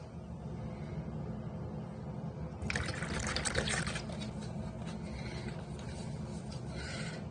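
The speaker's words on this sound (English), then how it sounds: "I'm also gonna add 2 tablespoons of vanilla" Vanilla extract is poured into a Jamaican cornmeal pudding mixture containing butter, giving a soft, quiet liquid trickle with a brief, brighter splashing burst partway through.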